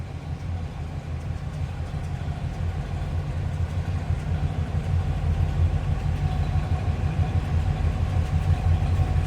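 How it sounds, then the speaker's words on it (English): A 1967 Pontiac Catalina convertible's 400 V8 idling with a steady, even low rumble that holds throughout at moderate loudness, with no talking over it. "A little rumble coming out of that 400, nothing too crazy or over the top."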